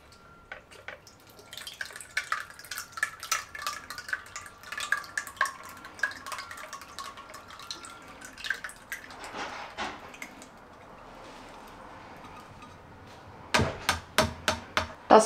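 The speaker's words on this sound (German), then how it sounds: "Jetzt gieße ich das Ganze durch ein Sieb." Homemade kefir is poured through a sieve into a jar, giving a steady trickle and patter with sharp taps and knocks from the sieve and glass, louder clinks near the end.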